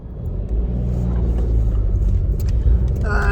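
A big truck passing by on a road produces a loud, close low rumble that builds and holds steady, with a brief higher tonal sound near the end.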